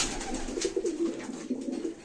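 Tumbler pigeons, a pair of Turkish play birds, give low, repeated coos that pulse steadily and close by, with a faint higher chirp now and then and no talking.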